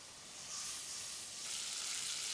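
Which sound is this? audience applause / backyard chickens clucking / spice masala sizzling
spice masala sizzling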